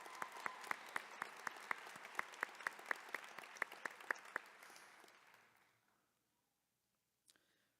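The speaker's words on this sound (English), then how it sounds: "Let's give Callie a round of applause." Audience at a nurse pinning ceremony applauds, a moderate crowd clapping with a few sharp, prominent claps near the front, then the applause fades out to near silence, followed by a faint knock at the end.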